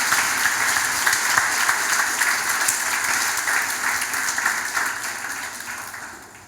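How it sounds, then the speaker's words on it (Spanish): A church congregation applauds during a sermon, a dense, steady wash of many hands clapping that holds level, then thins and fades away over the last couple of seconds. "Aplaude a ese buen Dios."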